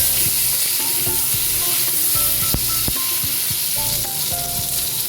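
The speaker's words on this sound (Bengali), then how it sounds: "ভাজার মধ্যে নুন দিয়ে দিচ্ছি।" Diced raw banana and tomato frying in a pan after salt is added, a continuous close sizzle broken by several sharp utensil scrapes and clinks from stirring.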